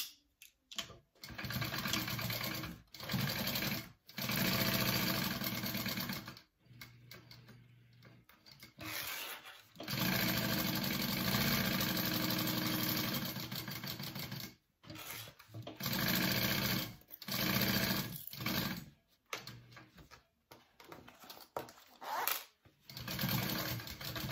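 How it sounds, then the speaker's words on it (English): A sewing machine runs close and loud in repeated bursts of steady stitching with short pauses between them, sewing a seam on a Clarendon crossbody wallet. "now I'm going to top stitch along the top part here"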